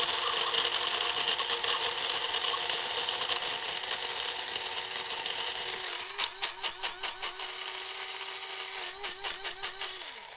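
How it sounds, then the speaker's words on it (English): An electric grinder whirring as it grinds turmeric into powder, a steady high motor whine followed by a run of short pulsing bursts, close and alone. "we're just gonna give it a good swirl and grind it up."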